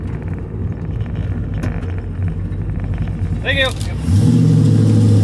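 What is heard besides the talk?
5.3 LS swapped 3rd gen Camaro engine running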